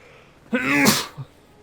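A single close sneeze from a person in Final Fantasy 14, a quick intake followed by a loud burst and a short trailing sound, alone against quiet background.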